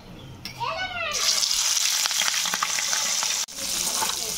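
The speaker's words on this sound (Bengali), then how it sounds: "কড়াই তেল দিয়ে দিয়েছি, মাছটা এবার ভেজে নেব।" Rohu fish pieces frying in hot oil in a wok, a steady loud sizzle that bursts in after a brief opening sound and holds with crackling pops, cutting out for a moment near the end.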